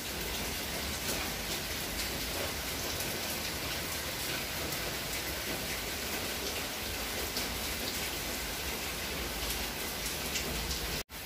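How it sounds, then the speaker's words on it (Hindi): Heavy monsoon rain pours down steadily, a dense, continuous roar of drops hitting surfaces nearby, loud and unbroken for the whole stretch with no voices. "पहले हल्की थी लेकिन अब बहुत तूफानी बारिश हुई है"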